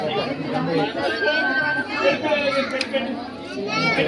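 Crowd chatter at Chilkur Balaji temple near Hyderabad, a steady close babble of many voices with children's shouts rising now and then, continuous and fairly loud throughout.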